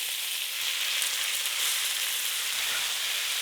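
Vegetables fry in a pan for a winter dinner at a cabin, giving a loud, steady, close sizzle that holds evenly throughout with no talking.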